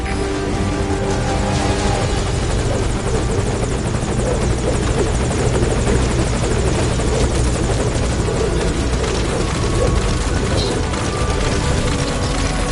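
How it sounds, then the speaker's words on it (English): A helicopter from Metal Gear Solid V drones loudly and continuously, its rotor chop and turbine whine filling the scene without a break. "Put the target on the chopper."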